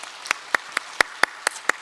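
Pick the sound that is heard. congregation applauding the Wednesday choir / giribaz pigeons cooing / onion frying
congregation applauding the Wednesday choir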